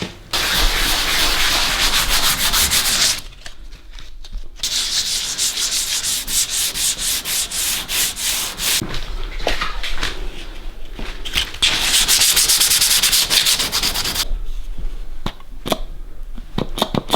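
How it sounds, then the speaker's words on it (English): A canoe hull being sandpapered by hand to prepare for a Kevlar skid plate: loud, close, continuous rasping strokes in long stretches, broken by two brief pauses, with no talk. "we're going to sandpaper at least 2 centimetres bigger than the patch because it will stretch"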